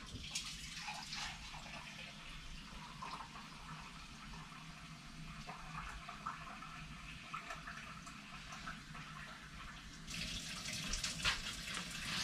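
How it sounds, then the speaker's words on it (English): About four cups of water pour into a pot of cabbage soup, a continuous, steady gush with splashing texture that swells louder near the end. "And then I'm going to add about 4 cups of water."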